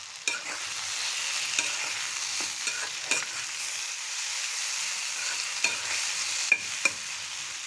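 A spoon stirs raw green mango pickle with sugar and chili powder in a pan. Soft scraping strokes and occasional sharp clicks sound over a steady, faint sizzle.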